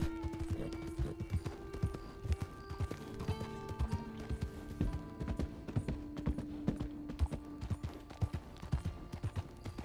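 Steady rhythmic clip-clop of horse hooves trotting, close and clear, over soft Red Dead Redemption 2 game music.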